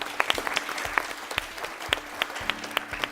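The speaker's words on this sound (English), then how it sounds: "Let's clap for them." Scattered applause from a small audience at a quiz show final, with individual claps popping out clearly over a thin crowd bed for a few seconds.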